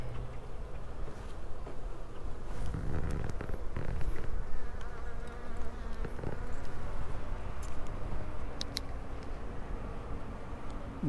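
Honey bees buzz continuously around an open hive during an October inspection in Florida, a dense steady hum with occasional louder bees flying close past.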